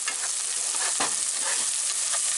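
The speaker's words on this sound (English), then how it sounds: "So put the seasoning in there, stir it around." Seasoned onions, already turning translucent, sizzle and fry in a pan for deep dish pizza sauce while being stirred, a steady close hiss with scraping stir strokes and no talk.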